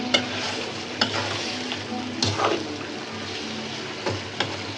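Green banana curry with potato sizzles in a pan, with a little water just added, under a steady frying hiss, while a spoon scrapes and stirs in several distinct strokes; close and fairly quiet, with no talking.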